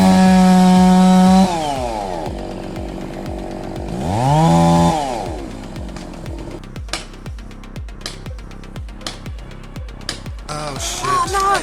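Chainsaw engine revving and cutting into trees during logging, loud harmonic whine rising and falling in pitch with throttle bursts, then rapid bumpy cutting strokes as the chain bites through wood.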